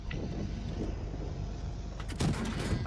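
A tank cannon fires in a tank video game: one sharp, loud blast bursts out late, over a steady background rumble.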